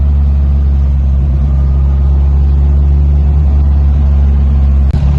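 A turbocharged 3TC-powered Toyota TE27 on its first boost-controlled pull on a hot day in Maui, a loud, steady, low engine drone heard close from inside the car, ending with a brief knock near the end.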